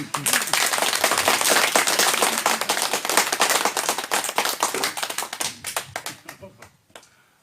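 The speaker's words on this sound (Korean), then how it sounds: "박수!" Church congregation applauding loudly together, a dense sustained burst of clapping that thins out into scattered claps and fades over the last couple of seconds.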